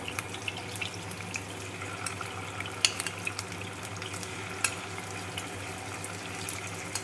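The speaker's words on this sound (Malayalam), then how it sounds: "അപ്പോൾ ഇതാ നമ്മൾ മീനെല്ലാം ഇതാ എണ്ണയിലേക്ക്" Oil crackles and sizzles continuously as fish fries, fairly quiet and steady, with scattered sharp pops.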